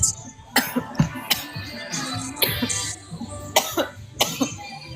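Several harsh coughs burst out in an irregular series, close and loud, with brief pauses between fits.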